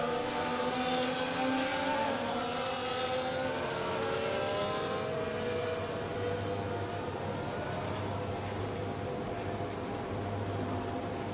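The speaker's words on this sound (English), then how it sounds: "As the cars come back towards the grid to line up for the start of the race" Formula 1 race cars in the video game F1 24 at the Canadian Grand Prix roll toward the starting grid, their engines a loud, continuous high whine with several overlapping pitches that rise and fall as they pass.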